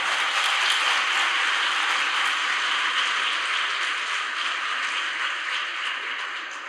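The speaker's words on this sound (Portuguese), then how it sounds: "Uma salva de palmas para a irmã." A crowd at a Catholic Bible gathering applauds in a steady, dense wash of clapping that sounds somewhat distant and roomy, holding even for several seconds and easing slightly toward the end.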